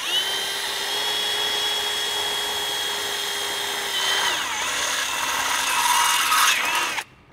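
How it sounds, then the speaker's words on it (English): A power drill bores a hole for a nutsert while installing a snorkel on a Ford Next Gen Ranger, a close, continuous high whine that dips in pitch midway as the bit bites, then stops abruptly. "drill a nutset at the hole"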